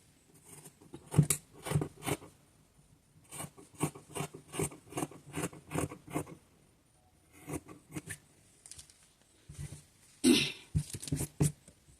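Scissors snip through delicate fabric for a wrap top in close, crisp bursts of repeated cuts, separated by short pauses and quiet handling, with no talking.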